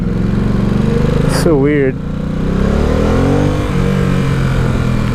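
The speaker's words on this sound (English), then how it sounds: "I feel like the bike is barely idling right now." A 2017 Ducati Supersport motorcycle engine idles with a steady low throb and rises in a short rev, while a rider's voice talks over it.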